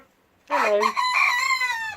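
A chicken on a smallholding gives a single loud, close, drawn-out call of about one and a half seconds, crow-like and rising, heard alone after a quiet start.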